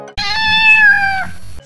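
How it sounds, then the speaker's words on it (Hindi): Cat meowing once, a single loud, close, drawn-out meow lasting just over a second against a quiet background. "अचानक बिल्ली की आवाज आई"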